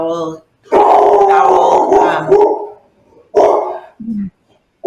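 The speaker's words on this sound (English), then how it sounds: "So sorry, that was my dog." A dog barks loudly and close in a run of yelping barks, then pauses and barks twice more, with a person speaking briefly.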